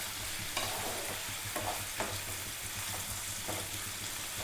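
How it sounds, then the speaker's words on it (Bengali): Onions fry for tomato rice in a pan, with a continuous soft sizzle broken by occasional stirring scrapes, close and fairly quiet, with no voice. "পেঁয়াজটা আমি ভালো করে লাল লাল করে ভেজে দেবো।"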